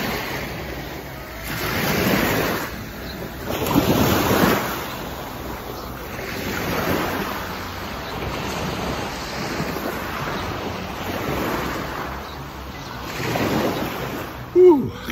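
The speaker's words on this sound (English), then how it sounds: "Here we are, on the beach." Ocean waves break on a beach in repeated surging washes every few seconds, mixed with steady wind buffeting the microphone, fairly loud and close with no speech over it.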